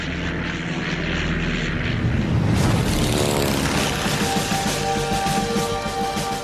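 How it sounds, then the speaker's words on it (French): A First World War fighter biplane's propeller engine drones steadily and loudly, swelling as the aircraft passes close, with a rising and falling tone over several seconds. "montez dans le cockpit avec Eddie Rickenbacker pour revivre grâce à des animations infographiques un combat légendaire"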